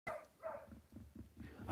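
A puppy gives a few faint, short barks and yips at a distance outdoors, scattered across a brief moment with low background rumble.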